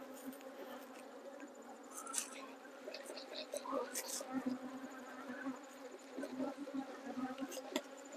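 Honey bees from an opened hive during midsummer colony management hum in a close, continuous drone, rising and falling as the colony is disturbed, with faint rustling and occasional soft sounds.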